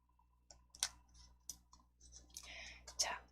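Several quick, sharp mouse clicks sound while a PowerPoint menu option is selected, scattered at uneven moments and fairly close, with faint breathy sounds between them and no speech.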